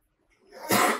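A single sneeze at an online furry convention art stream, rising from a faint intake to a sharp, loud burst near the end, close to the mic.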